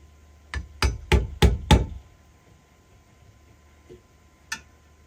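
Five quick, sharp hammer blows drive an awl into a log cabin wall, loud and close in an even rhythm, followed by a quieter pause and one more lone knock.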